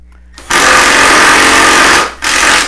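An impact driver fitted with a bit and pressed into service for drilling runs at full power in a workshop, a loud, dense mechanical hammering buzz lasting about a second and a half, cutting out briefly, then starting again.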